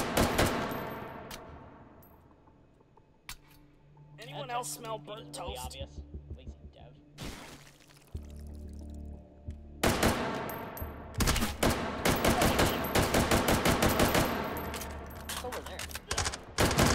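Gunfire in the VR game Hot Dogs, Horseshoes & Hand Grenades, in a custom manor map. Rapid bursts of loud automatic shots crackle at the start and again throughout the second half, with quieter single shots in between and someone talking.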